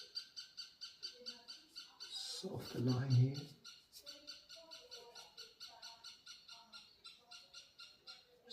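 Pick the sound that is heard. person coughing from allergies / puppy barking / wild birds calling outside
wild birds calling outside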